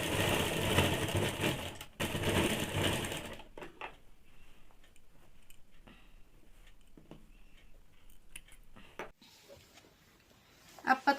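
A sewing machine stitches a folded thin strip onto a high-neck blouse, a loud, rapid whirring run for a few seconds, then quieter, with scattered clicks and short bursts.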